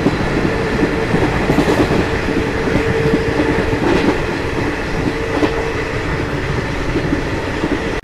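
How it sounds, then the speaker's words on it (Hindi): An Indian express train running at 130 km/h, heard from inside a coach as a loud, steady roar of wheels on rail with faint rhythmic clickety-clack and occasional squeals, continuous and close, no talking. "और फिलहाल हमारी ट्रेन 130 किलोमीटर पर आवर की रफ्तार में चल रही है"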